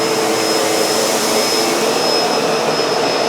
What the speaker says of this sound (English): We are on maximum suction.